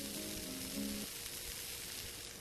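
Essence foam toner from a Blibli foam pump bottle fizzing and crackling steadily, a close, continuous hiss with a faint tone in the first second, heard alone.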